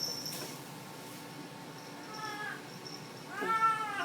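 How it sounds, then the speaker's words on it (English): A pet cat meows as it brings back its ball, two rising-falling meows near the middle and end over faint room quiet, fairly close and clear. "Listen to him meow when he brings his ball back."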